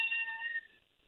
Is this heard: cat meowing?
yes